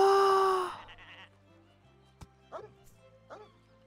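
A dog in the farming video game Summer in Mara gives a few short, high yips and barks after a loud tonal game sound cuts off, with quiet background music continuing beneath.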